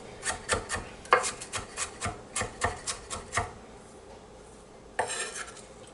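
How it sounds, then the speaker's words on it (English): Kitchen knife rapidly mincing beef on a cutting board, a close, brisk run of sharp chopping taps with short pauses, closing on a final burst of cuts. "I'll mince this up so I can get the most out of it"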